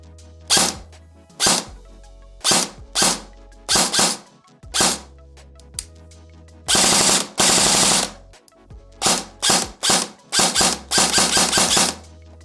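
A Specna Arms HK416 airsoft replica fires in semi-auto mode, sharp mechanical shots loud and close, single shots spaced irregularly with a couple of quick rapid bursts in the middle and near the end.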